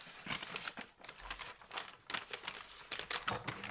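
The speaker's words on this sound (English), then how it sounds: "Okay, so now we're going to cut this down." Amazon packaging paper being cut and handled for a craft project, giving close, irregular crinkling and crackling bursts with papery rustles and snips, with no talking.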